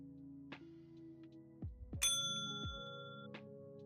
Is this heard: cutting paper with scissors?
no